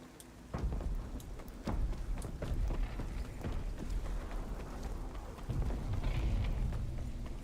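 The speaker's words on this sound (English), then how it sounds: "I'll wait the storm out here" Thunderstorm with rain in Star Citizen, a steady wash of heavy rain with deep rumbling thunder rolls and crackling bursts, sustained and fairly quiet with no talk.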